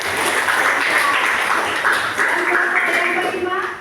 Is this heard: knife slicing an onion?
no